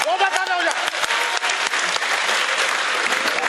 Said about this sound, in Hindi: ताली बजा दीजिए भैया एक बार